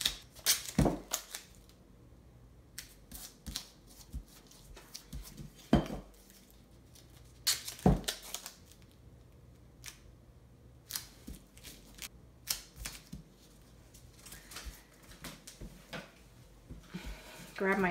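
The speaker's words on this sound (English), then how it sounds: "I'll just trim the underside here on each one." Quiet scattered snips and clicks of scissors trimming tape on the underside of hexagon resin coaster tiles, with small knocks of handling on a hard surface and occasional soft talking.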